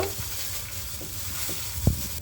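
Chopped onions fry in a pan with a steady close sizzle, joined by a few soft stirring scrapes and one sharper knock near the end.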